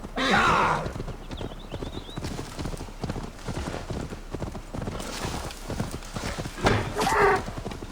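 Hooves of a horse galloping in the video game Assassin's Creed Valhalla, a rapid, continuous drumming that stays loud and close, with brief louder swells near the start and end.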